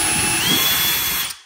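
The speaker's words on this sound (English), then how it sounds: "Then you can turn it to drill. So you can hear the difference right there." A DeWalt DCH133B 20V Max XR brushless D-handle rotary hammer drill runs in drill mode, a loud steady high whine held close for over a second before cutting off abruptly.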